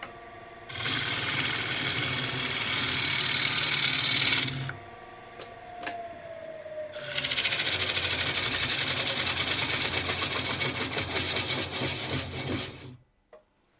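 Gouge peeling side grain on an elm blank spinning on a wood lathe, a steady rasping hiss in two long cuts separated by a short pause, close and loud over the lathe's hum.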